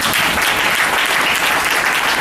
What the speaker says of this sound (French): Et voilà tout l'applaudissement que nous offrons au Seigneur Jésus-Christ.